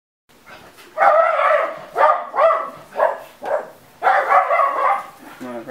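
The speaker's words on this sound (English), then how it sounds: "Die Hunde bellen. The dogs are barking." Several dogs bark in a series of loud, close bursts, short clusters of yapping separated by brief pauses, with a higher whine near the end.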